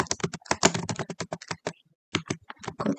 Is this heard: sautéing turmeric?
no